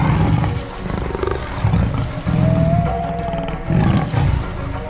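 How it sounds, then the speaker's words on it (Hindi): A tiger roars in a Hindi cartoon jungle-and-river scene, several loud, close, rumbling roars in bursts with short gaps between them, with no talk over them. "बाघ आ रहा है।"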